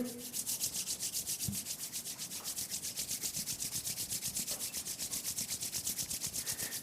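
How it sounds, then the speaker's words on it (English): Palms rubbed briskly together in a quiet room, a soft rhythmic swishing friction repeating in even strokes, close and fairly faint, with a small tap partway through and no talking. "Rub your palms together."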